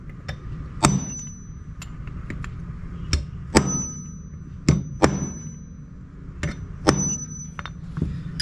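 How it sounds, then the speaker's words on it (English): Sharp metallic hammer blows drive a punch to seat a Welch plug into the carburetor of a Tecumseh-powered Craftsman 5hp snowblower, about a dozen irregular ringing strikes, some clustered, close and alone. "I take a hammer, and I'll knock it in"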